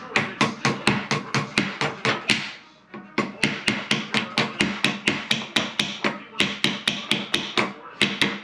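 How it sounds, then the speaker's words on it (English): Rapid, steady hammer blows strike a Russian SKS rifle part, about three per second, loud and close, with a short break partway through before resuming. "we're going to have to hammer this down too."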